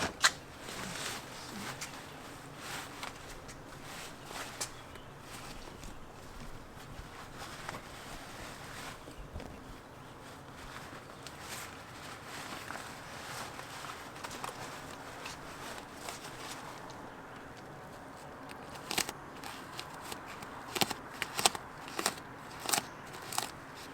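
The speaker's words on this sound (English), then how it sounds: "we're going to go ahead and get on the interior here now and start cutting out these airbags" A razor blade slices through airbag material inside a BMW 650i, producing faint, irregular crackling cuts and clicks that grow sharper and more frequent near the end, with no talk.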